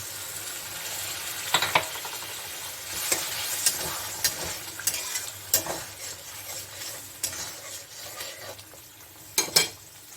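Capsicum and paneer masala simmering in a pan after water is added, a continuous sizzle punctuated by repeated scraping strokes of a spatula against the pan, close and fairly loud.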